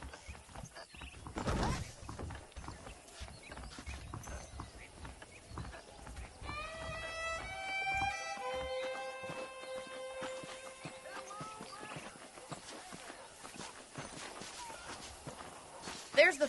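Saddled horses in the Red Dead Redemption video game clip-clop with soft, irregular hoofbeats amid game ambience, while a bright chiming musical passage rises in the middle and talk runs through.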